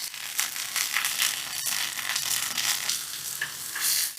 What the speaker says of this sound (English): Once the butter has melted, just add the mushrooms. And saute over medium heat until they become tender.